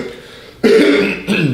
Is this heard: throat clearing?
yes